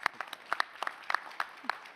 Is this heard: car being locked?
no